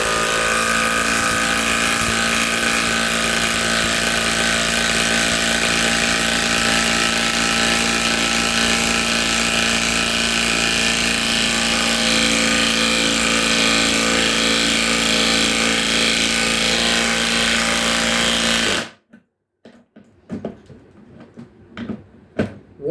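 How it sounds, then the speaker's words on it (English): A Milwaukee Fuel 2854-20 cordless impact wrench fitted with a 3/4 socket drives a 1/2-inch lag bolt into wood, hammering loud and continuous for about nineteen seconds before stopping abruptly, followed by a few faint clicks and handling knocks. "I'm going to show you why you should be using this impact wrench to drive in lag bolts."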